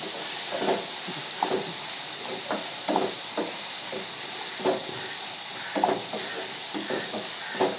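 Pointed gourds (potals) fry in a pan with a steady, close hiss broken by scattered soft pops and crackles. No one talks.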